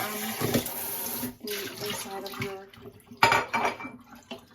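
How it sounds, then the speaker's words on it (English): Water runs from a tap as a container is rinsed to wash off extra oil, with splashing and light clinks of the container against the sink in a few irregular bursts, close by. "So I'm going to just rinse it, get some extra oil off."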